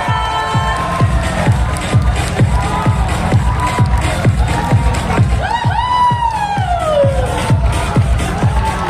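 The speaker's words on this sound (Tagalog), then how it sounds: "Isang malakas na sigaw." A large crowd at a male pageant grand final in Manila shouts and cheers continuously, loud and close, with rhythmic clapping and a rising whoop cutting through the roar.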